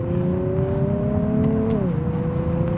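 A 2020 Nissan 370Z NISMO cruising at about 50 km/h, its engine holding a steady droning hum under road and wind noise, with the pitch easing down near the end as the revs drop.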